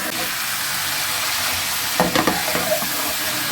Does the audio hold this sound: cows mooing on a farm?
no